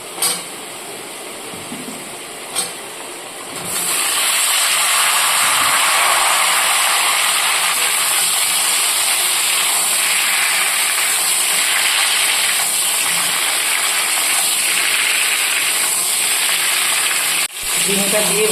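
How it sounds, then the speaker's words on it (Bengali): Ridge gourd tipped into frying potatoes in hot oil sets off a loud, sustained sizzle after a few quiet knocks, with stirring scrapes beneath and a short clatter near the end. "এবার আমি এর মধ্যে ঝিঙেটা দিয়ে দেব।"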